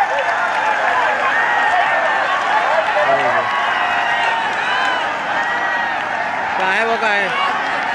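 Steady crowd clapping fills the air at a village match in Bugrasi, dense and continuous, while people talk and call out over it.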